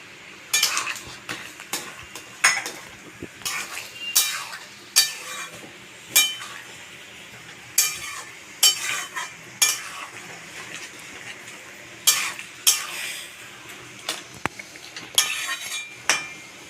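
Chicken and chickpea curry with garam masala cooks on high flame under a low simmering hiss, broken by repeated metal-on-pot stirring clinks and scrapes roughly every second.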